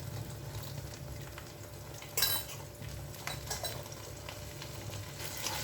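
Eggs being beaten and scrambled in a hot pan: a soft continuous sizzle under scraping and stirring, with a few light metallic clinks of the utensil against the pan.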